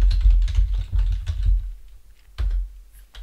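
Close, quick keystrokes on a computer keyboard, a rapid cluster of taps, a short pause, then a few more clicks.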